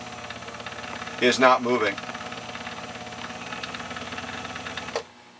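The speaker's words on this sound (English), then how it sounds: "I can push on the foot pedal and you'll notice that the bobbin spins" A Husqvarna Viking Model 8 sewing machine hums steadily as its bobbin spins under foot-pedal control, a low mechanical whir that stops abruptly near the end, with a person talking over it.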